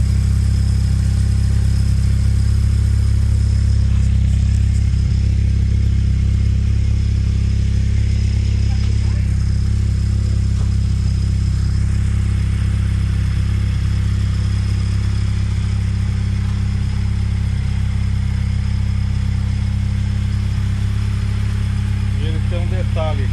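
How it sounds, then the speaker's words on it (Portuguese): Triway motor tricycle engine running steadily at a low, even idle, a constant near rumble with no clear revs and no talk over it. "Mais uma vez o funcionamento do motor que ele queria."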